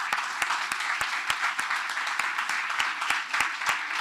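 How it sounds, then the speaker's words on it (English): A ceremony audience applauds the Boston String Academy Orchestra, heard as moderate clapping from a crowd with a few sharp, distinct claps standing out. "Another round of applause."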